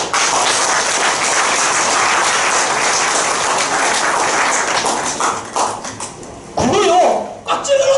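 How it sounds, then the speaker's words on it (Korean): A church seminar audience claps steadily and loudly for several seconds, then the applause fades out and a few thumps and a voice follow. "마지막 박수 한번 쳐보세요"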